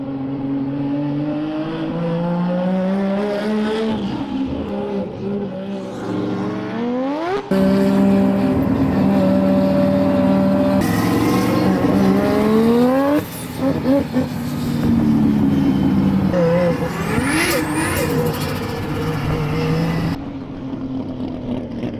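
A Volvo 740 race car engine roars and revs hard at Goodwood, its pitch climbing through the gears as it tears past, loud and close, with faint talk underneath.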